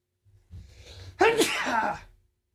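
A single sharp sneeze bursts out close to the mic, preceded by a brief intake of breath, then fades into quiet.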